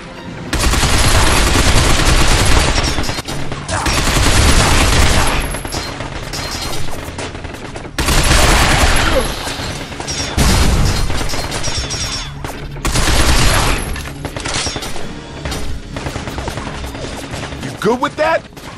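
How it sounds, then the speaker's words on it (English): Machine gun fire in the video game Binary Domain rattles in long loud dense bursts with short lulls between, a harsh continuous barrage of shots and impacts. "Draw the machine gun fire!"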